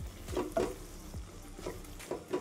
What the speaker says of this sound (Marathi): छान आता आपण परतून घेऊ.